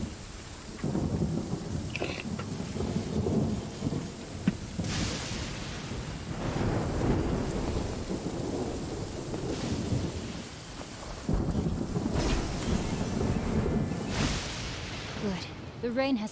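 Steady rain pours in a Genshin Impact game scene, a broad hiss with low thunder rumbles swelling and fading throughout, loud and continuous, and a voice speaks at times over the storm.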